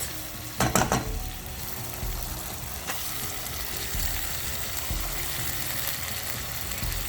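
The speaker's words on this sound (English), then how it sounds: "Now I'm gonna fry my tomatoes for same 2 to 3 minutes until it got softened" Tomatoes fry in a pan for palak paneer, a steady close sizzle with a few quick stirring scrapes near the start, continuing evenly without talk.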